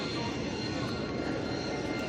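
Airplane passing overhead at an air show, a steady loud broadband engine roar that fills the whole stretch without breaks.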